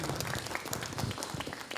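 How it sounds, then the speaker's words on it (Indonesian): Steady applause from an audience at a children's preacher competition, many hands clapping together in a dense, continuous patter at moderate volume. "Tepuk tangan buat anak-anak kita semuanya."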